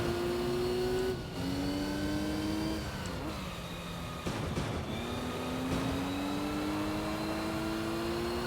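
A Mitsubishi 3000 GT in Gran Turismo 3, running stock horsepower with upgraded suspension and clutch, races with a steady high engine whine that climbs through the revs, dips on gear changes and climbs again, heard alone without talk.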